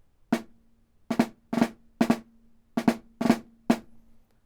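A drum plays sharp strikes in a steady pulse, some hits doubled closely together in quick 32nd-note pairs, with a sustained low tone ringing beneath.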